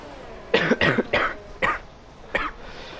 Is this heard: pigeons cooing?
no